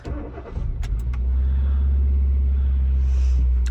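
A Hyundai i10 engine cranks briefly with a few clicks, then catches and settles into a loud, steady, slightly high idle close to the listener.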